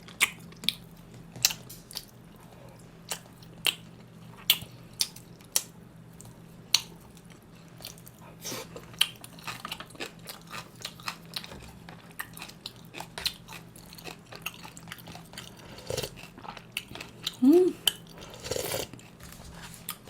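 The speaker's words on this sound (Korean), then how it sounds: "간 먹어볼게요. 간을 소금에 찍어갖고." Chewing liver dipped in salt during a sundaegukbap meal, close soft wet bites and chews scattered irregularly over a quiet steady background hum, with occasional light clinks of cutlery.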